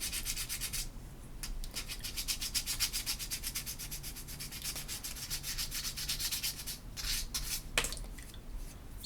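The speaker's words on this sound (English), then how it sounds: "we're just taking off a small layer of cane" Bassoon reed cane being sanded smooth with rapid, steady rubbing strokes close up, a continuous scratchy rhythm that keeps on without pause.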